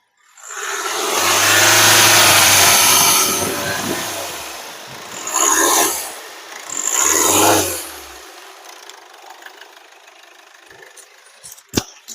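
A Hyundai Verna SX 1.6 engine runs up close, rising into a long loud rev, then two shorter blips of the throttle before settling back to a quiet idle.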